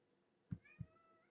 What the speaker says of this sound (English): here's my cat. This is Wasabi.